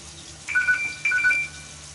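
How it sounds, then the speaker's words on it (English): A phone rings faintly with two short electronic trilling bursts, separated by a brief pause, against quiet background noise. "That phone's ringing."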